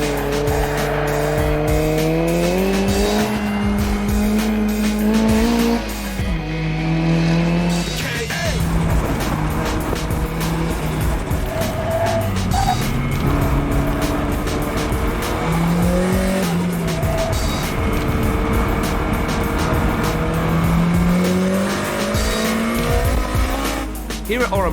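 Nissan 200SX with a new engine pushed through hard laps at Oran Park circuit, engine loud and continuous as revs climb and fall through gears, with tyre squeal through corners and a voice talking over it.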